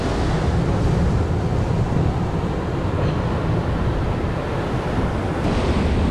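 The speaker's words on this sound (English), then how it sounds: "The waves them getting bigger and more unexpected." Ocean surf breaks on an Australian shore while prawns are being caught, a loud continuous broadband roar and wash that fills the whole stretch without pause.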